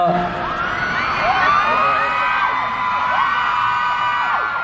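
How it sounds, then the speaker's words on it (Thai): Fans scream at the BUS 'because of you i shine' debut showcase, a dense, loud, sustained wall of high-pitched shrieks and whoops from a large crowd. "ไม่ต้องกรี๊ดก็ได้ครับกลัวเจ็บคอ"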